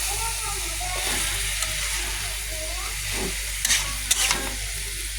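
Vegetable curry with pumpkin bori and green chillies being mixed in a pan, a steady sizzle and hiss under intermittent scraping strokes, close and continuous, with a few louder clanks near the end.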